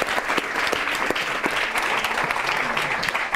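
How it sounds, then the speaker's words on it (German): Audience applause at an evening information event, as a speaker is welcomed to the stage; steady, dense clapping from a full room with no talking over it. "Mit großem Applaus"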